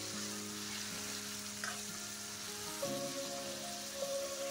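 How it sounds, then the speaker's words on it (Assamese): Chicken meat frying on a low flame for homemade chicken chowmein, a soft, steady sizzle with faint crackles and occasional stirring, no voices. "এতিয়া মই মাংসখিনি ধুনীয়াকৈ ভাজি আছোঁ।"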